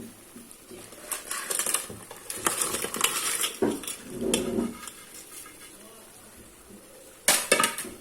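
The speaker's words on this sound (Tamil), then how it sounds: "நண்டை போட்டுருவோம்." Crabs are tipped into a cooking pot of gravy base, making a cluster of knocking, clattering and rattling impacts against the metal, followed by softer sizzling and a final sharp clatter, with no talking.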